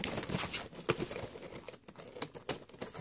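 Plastic packaging crinkles and crackles up close while JVC HA-SR185 headphones are unboxed, in quiet irregular bursts of rustling.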